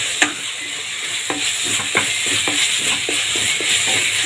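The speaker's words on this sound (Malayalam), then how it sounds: "നമുക്കിനി ഇതെല്ലാം കൂടെ നല്ലതായിട്ട് ഒന്ന് ചിക്കി കൊടുക്കണം." Vegetables being stir-fried in a pan over high flame, a steady loud sizzle with regular scraping strokes of a spatula every half second or so, no talking.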